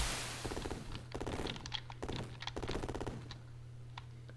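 Rapid gunfire from the Urban Strike video game rattles in quick bursts over a steady low electronic hum, fairly faint, with no voices.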